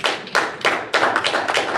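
Several bursts of hand clapping at a city council meeting in Belleville, loud and close, arriving in uneven rapid waves of applause with no talking over them.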